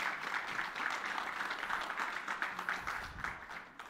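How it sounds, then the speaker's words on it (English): A church congregation applauds the ladies during a service, a steady wash of many hands clapping at moderate distance, faint and continuous, tapering slightly toward the end. "can we just give those ladies a round of applause?"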